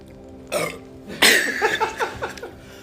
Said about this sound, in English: you can't drink soda water and then try and talk without burping